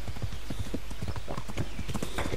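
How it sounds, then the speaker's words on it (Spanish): Horse hooves clip-clop in a quick, steady rhythm, close and continuous over a low background rumble, from the video game Kingdom Come: Deliverance. "Así viene el caballo, ven, caballo."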